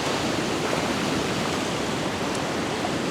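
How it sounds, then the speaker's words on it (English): Waves crash and churn against the rocks at Moffat Beach, a dense, steady roar of surf and spray that fills the whole stretch without a break, loud and close. "Beautiful crashing waves, gorgeous light."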